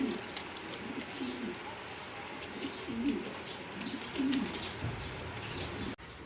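Kashmiri racer pigeons in a loft, giving several soft, low cooing phrases spaced a second or so apart over a steady rustling background, close and moderately quiet, with occasional chirps and no speech.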